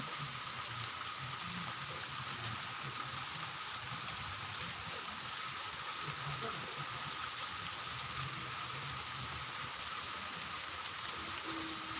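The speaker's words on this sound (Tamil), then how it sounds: "சீரான மழையும் பெய்து வருகின்றது" Steady rain falls during a sudden downpour under dark clouds in the Chidambaram area, a continuous even hiss with no pauses and nothing standing out above it.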